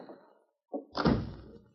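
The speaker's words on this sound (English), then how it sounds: "Come in and shut the door." A door thuds shut at close range, one solid slam with a short rattle after a brief muffled knock, set in an old radio western drama.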